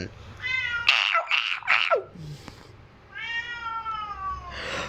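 A cat meowing, a few clear drawn-out meows at close range with a short pause between calls and a faint background voice.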